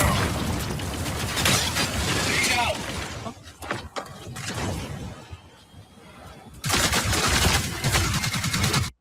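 Shotgun blasts in a video game land as sharp, heavy bursts among clattering action sounds, with a loud stretch at the start and again near the end, and a quieter, sparser middle.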